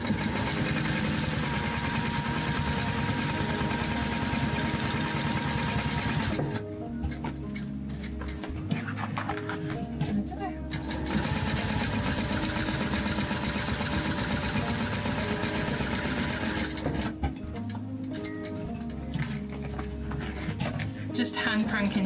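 A sewing machine stitches around a slip pocket on a mini traveler sling bag, running in steady, close bursts with two short pauses between runs.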